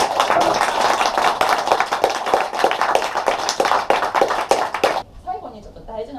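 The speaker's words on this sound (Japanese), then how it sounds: "二人に拍手" An audience at a Japanese political talk event on labor reform applauds two guests, steady dense clapping for about five seconds before it stops and a speaker begins talking.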